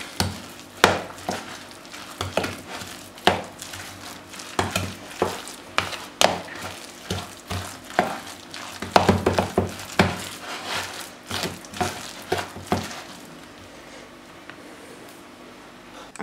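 Meatless dumpling filling is stirred by hand in a bowl, producing a close series of irregular clacks and scrapes of a utensil, fairly loud at first and tapering off toward the end.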